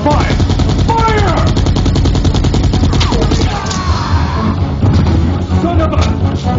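Gunfire in Resident Evil 2, loud continuous rapid shots hammering densely from start to finish, with shouting voices over the barrage and a brief dip near the end.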